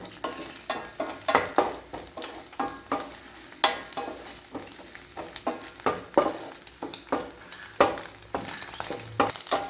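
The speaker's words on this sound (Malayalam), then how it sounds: "ഇങ്ങനെ നമ്മൾ മുട്ടയൊക്കെ നന്നായിട്ടൊന്ന് ചിക്കിയിട്ടുണ്ട് മുട്ട ഉള്ളവരിട്ടാൽ മതി ഇത് നന്നായി ഇളക്കി കൊടുക്കണം" A spatula works through scrambled egg and moringa leaf in a frying pan, giving a steady run of scraping strokes over a faint, continuous sizzle, close and fairly quiet, with no talking.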